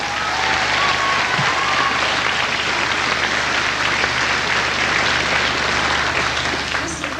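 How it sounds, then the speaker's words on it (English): Sustained audience applause filling a church gathering, dense and steady throughout at close range with a faint voice or two mixed in beneath the clapping. "Let's give him a clap as well."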